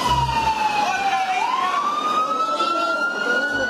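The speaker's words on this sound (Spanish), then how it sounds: "La sirena del carro del cuerpo de bomberos alertó a los moradores" A fire truck siren wails in a long rising and falling tone at a house fire in La Alborada, Guayaquil, loud and continuous over steady road noise.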